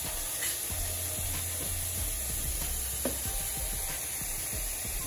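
Okra and tomato with sausage sauté in a hot pan, a continuous crackling sizzle with scattered pops and stirring scrapes, close and steady, with no voices.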